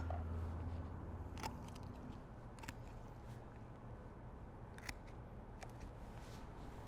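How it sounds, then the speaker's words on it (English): A knife cuts around the oyster meat on the back of a spatchcocked chicken, soft intermittent snips and crisp cutting ticks over a steady low background noise. "Try and cut around that oyster meat on the back because there's some good meat right there."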